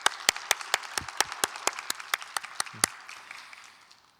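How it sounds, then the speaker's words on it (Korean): A church congregation claps at a Sunday youth service, sharp distinct handclaps at a steady, fairly quick rhythm, fading and thinning toward the end, heard indoors without talking. "우리 한번 다시 한번 박수로 한번 격려하고 축복하겠습니다"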